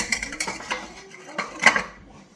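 All-purpose flour being mixed into banana cake batter in a bowl, with a series of close clinks and scrapes of a utensil against the dish, irregular and fairly loud, fading out at the end.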